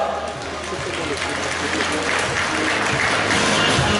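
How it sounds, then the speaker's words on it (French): An audience at a salon presentation claps loudly and continuously, a dense, steady roar of applause that swells slightly toward the end, with talk faintly mixed in. "vous pouvez l'applaudir bien fort"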